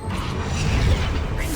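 The Wingardium Leviosa levitation spell in Hogwarts Legacy, a mechanical creaking whoosh that swells and rumbles for over a second, with a faint magical shimmer near the end, no talk over it.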